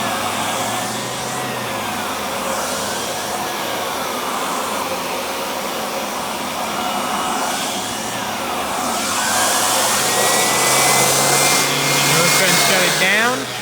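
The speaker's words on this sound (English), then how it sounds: "the final piece of the attachment I'd like to show you is the zip brush" A vacuum cleaner runs loud and close with its zip brush turbo attachment spinning, a steady motor roar whose whine rises and shifts in pitch as the brush is worked.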